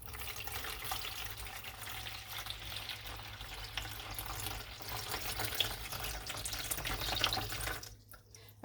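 Lukewarm water pours steadily into a bowl for a starter, a continuous hissing splash running for several seconds before it cuts off abruptly near the end.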